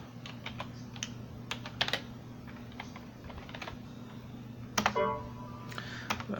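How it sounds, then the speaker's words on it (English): Fingers type a password on an old Gateway computer keyboard running Windows 2000 Professional, giving a close, quick run of plastic key clicks with short pauses and a final burst of keystrokes over a steady low hum. "Go ahead and type my password in."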